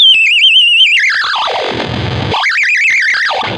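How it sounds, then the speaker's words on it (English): A heavily distorted Kaoss Pad effect, run through a Big Muff and an overdrive pedal, warbles in a wobbling high tone, dives down into a low growling rumble, then climbs back up into the wavering pitch. "So it's being affected by both the Big Muff and the overdrive distortion."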